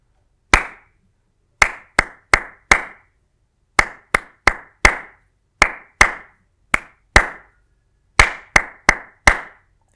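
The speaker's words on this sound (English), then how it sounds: "So I'm going to clap that first example for you" Hand claps beat out a time-signature rhythm example, about twenty crisp, close, loud claps in grouped patterns with short pauses between phrases, in a quiet room with no talking.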